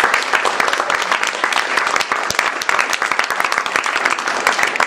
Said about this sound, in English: so if we just get a round of applause for Rich